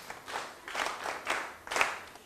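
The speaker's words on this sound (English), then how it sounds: "let's clap for Mbazira" A classroom of pupils claps briefly for a classmate, Mbazira, a short, soft burst of scattered hand claps in a few uneven waves.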